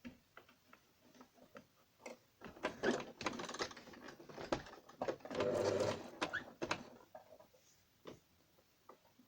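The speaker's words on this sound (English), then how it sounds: "here I'm going to start my sewing" A domestic sewing machine stitches lace onto a t-shirt top, quick ticking needle bursts in several short runs with pauses between, close and fairly quiet, with no speech.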